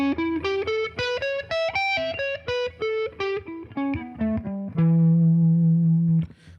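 A distorted electric guitar plays the Voodoo Blues scale, a minor pentatonic with the flat seventh swapped for a major sixth, picking evenly up and back down before ringing out on a long, loud low note.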